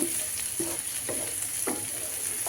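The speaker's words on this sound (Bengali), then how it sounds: "কিছু আস্ত রসুনের কোয়াও দিলাম দিয়ে একটু নাড়াচাড়া করে নিই" Dried fish and whole garlic cloves fry in hot oil with a constant bright sizzle, while a few short stirring scrapes come at uneven intervals, close and with no talking.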